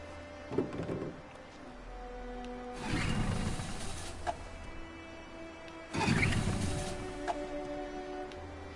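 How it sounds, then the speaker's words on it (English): Pull-start attempts on a boat's outboard engine in the video game Detroit: Become Human, out on open water: three separate rough, sputtering bursts of a motor trying to catch, spaced a few seconds apart over a low background rumble. "Let's get that engine going."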